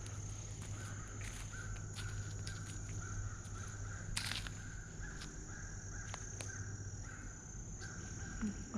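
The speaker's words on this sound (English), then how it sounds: "A crow going off about something over there." Out in a swampy wetland, a crow caws repeatedly off in the distance, faint calls rising over a constant hum of insects and other outdoor background noise.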